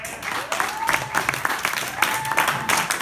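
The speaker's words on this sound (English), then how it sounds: "So let's give them a hand." Applause for local comics at a FUBAR standup comedy night, a room of people clapping in uneven bursts with a few sharp claps standing out, while voices carry underneath.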